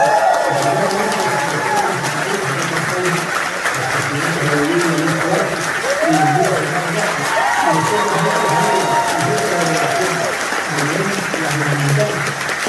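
Sustained audience applause and cheering for President Andrés Manuel López Obrador at a political gathering, a dense, steady roar of clapping with voices shouting over it, loud and unbroken throughout.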